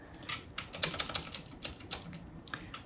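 Quick bursts of typing on a computer keyboard, light clicky keystrokes in short irregular runs, close and fairly quiet with no voices.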